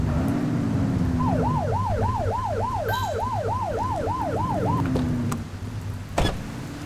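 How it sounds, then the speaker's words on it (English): A police siren from The Precinct video game wails in a steady, rapid rising-and-falling cycle for several seconds over a low engine rumble, then cuts off, leaving a quieter background and a brief thump. "Get behind them and flip the siren to make them pull over."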